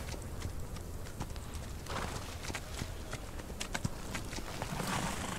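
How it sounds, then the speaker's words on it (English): Horse hooves clip-clop at a steady walking pace in the Old West video game Outlaws of the Old West, set in 1890s Utah, with a constant outdoor ambience underneath and no talk. "Let me try to rein this horse in."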